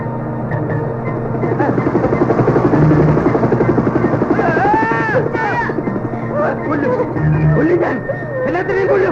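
A steady, droning rotor-like whir of a helicopter, or a ceiling fan that sounds like one, continues throughout at moderate loudness beneath several people talking in an indoor comedy scene.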